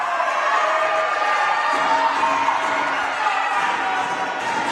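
A crowd cheering in a gym at a girls basketball game between Ellenville and Webutuck, a steady, loud roar of voices and shouts that holds through the whole moment.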